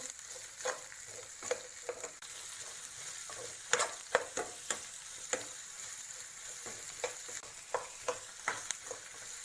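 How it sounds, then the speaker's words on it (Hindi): Finely chopped onions sauté with a continuous, moderate sizzle, punctuated by repeated rhythmic scrapes and clacks of stirring in the pan. "इसमें हम ये फाइनली चॉप ऑनियन डालेंगे। इसको भी हम अच्छे से सौते करेंगे।"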